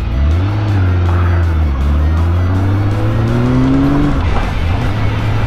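Restored Honda CBX1000 motorcycle on a test ride, its engine droning close and continuous, the pitch climbing steadily with acceleration, easing off, then rising again as the rider opens the throttle.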